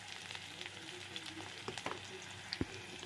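Oil frying in a home kitchen pan, a soft continuous sizzle with scattered crackles and a louder pop near the end, quiet and close.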